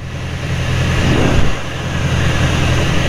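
Carbon Cub light airplane engine with a little power added on approach, a steady loud drone with a slight swell in the middle, continuous throughout.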